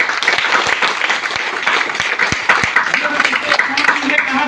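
Applause at a DXN distributor training meeting in Patna, a loud burst of many people clapping with sharp individual claps standing out, continuing throughout with voices mixed in.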